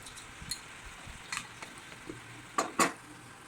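Fish curry masala with turmeric, chilli powder and salt being mixed in a pan, quiet low sizzle under a few sharp scraping and clinking stirs, the loudest two near the end.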